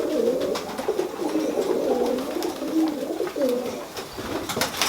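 Tippler pigeons coo in soft, rolling bursts, several calls overlapping at close range over a steady background hiss.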